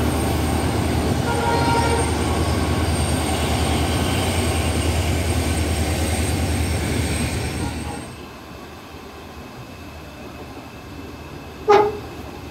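A special train hauled by a WE40 locomotive between New Alipurduar and NJP rumbles past with a steady, broad roar that drops away after several seconds, followed by a brief higher tone near the end.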